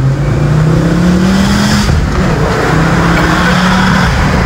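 A Ford Focus RS Mk2 with 320 horsepower accelerates, its engine droning loud and steady from inside the car as the pitch climbs gradually, then dips briefly and rises again.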